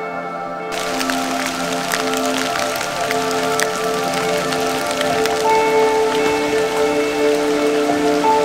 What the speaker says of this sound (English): Started to rain quite a lot, so we're taking some shelter.